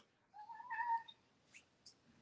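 A domestic cat gives a single drawn-out meow, faint and fairly close, followed by a couple of brief high chirpy squeaks in an otherwise quiet room.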